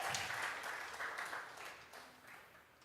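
A church congregation at a Spanish-language Bible study clapping together, a burst of dense applause that fades gradually over a few seconds.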